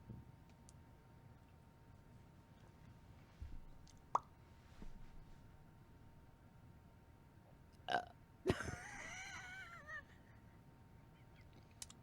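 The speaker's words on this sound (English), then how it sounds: "You were trying to do the silent burp" A single burp rises out of a quiet room, brief and fairly near, with a few small clicks and soft background sounds around it.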